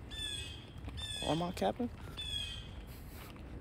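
Harsh, aggressive bird squawks outdoors along a suburban road, with a few bursts cutting through close by while a person talks over them.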